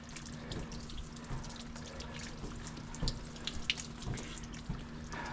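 Water from a water-fed pole rinses window glass during window cleaning, a steady, fairly quiet hiss and splatter with small drips and splashes throughout.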